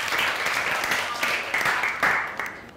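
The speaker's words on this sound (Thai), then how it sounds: "ปรบมือให้ปูชิตาหน่อยค่ะที่มานำเสนอนะคะ" A class applauds a student after her presentation, a moderate, somewhat uneven clapping with individual hand claps standing out and faint voices mixed in.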